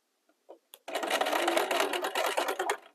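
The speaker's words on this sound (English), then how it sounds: "Sewing on a curve is not always the easiest thing" A sewing machine runs steadily for about two seconds, stitching a curved seam on a button-up shirt while it is taken in to a smaller fit, after a few faint clicks at the start; the motor hum is close and continuous, with no voices.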